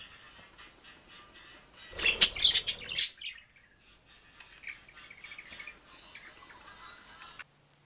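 Pet budgerigars chirp and twitter in a home room, a loud burst of bright tweets in the middle, then softer warbling song with a faint hiss of running water toward the end.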